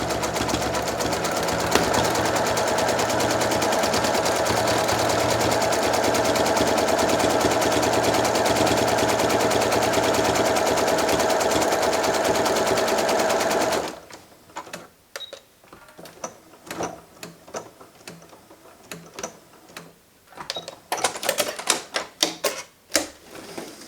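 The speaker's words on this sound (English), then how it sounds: "And I'm just going to use this to sew just the body on." Sewing machine running steadily for about fourteen seconds as it stitches the body of a thread-and-sea-glass dragonfly, a dense continuous mechanical rattle, followed by sparse handling clicks and taps.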